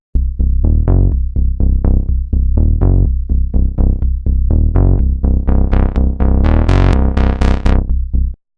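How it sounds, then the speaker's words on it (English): A loud, punchy bass loop with saturation added, giving a slightly gritty tone, plucked notes in a steady rhythm, stopping abruptly at the end. "next I'm going to add saturation to a bass loop"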